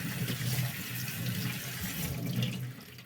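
Honey fungus mushrooms rinsed under running tap water in a pot, a close, continuous splashing gush that stays steady for a few seconds before easing slightly at the end.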